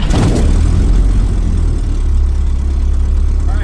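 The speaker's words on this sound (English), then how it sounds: "Propeller area clear, and ignition." Small propeller airplane engine running loud and close just after ignition, a steady low rumbling drone with a brief louder burst at the start, no talk over it.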